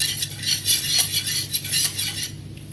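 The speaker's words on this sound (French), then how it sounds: "Mélanger." A utensil stirring egg into a spinach and bacon tart filling in a bowl, with rhythmic scraping and light clinking of metal against the dish, close and steady with no talking.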